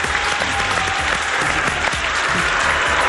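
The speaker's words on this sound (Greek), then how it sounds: "Χειροκρότημα" Studio audience on a Greek live TV show applauds the arrival of a magician guest, thick continuous clapping at full volume without a break and with no one speaking over it.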